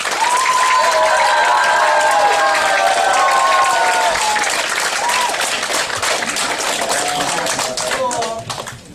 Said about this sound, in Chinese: 我们掌声欢迎我们的 Derek 还有他的夫人 Shelby